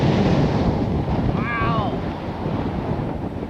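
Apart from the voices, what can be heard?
strong wind on a golf course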